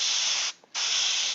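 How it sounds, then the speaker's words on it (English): Aerosol paint hisses onto a model robot, laying down a green-gold coat in two long, steady bursts separated by a brief pause, close and loud with no talking. "let's go ahead and spray this down"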